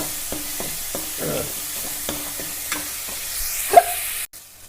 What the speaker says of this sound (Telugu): ఆ గోల్డెన్ కలర్ వచ్చేటట్టు ఫ్రై చేసుకుందాం